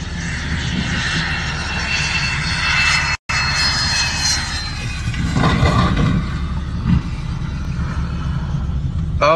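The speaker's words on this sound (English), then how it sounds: "this Cessna Citation that couldn't stop in time and overran the runway" A Cessna Citation jet landing on a wet, too-short runway in Texas and overrunning it, a loud steady engine roar with rumble throughout, a brief dropout, then a rougher burst of noise.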